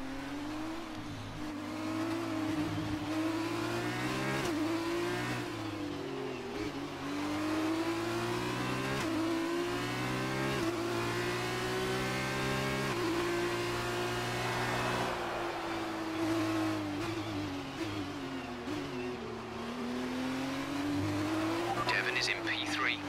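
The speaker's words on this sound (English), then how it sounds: "I will leave you with the rest of this race in peace to enjoy the race sounds" Race cars in the video game F1 2019 scream past in a continuous high engine whine that rises and falls through gear changes, with several cars overlapping, loud and unbroken throughout.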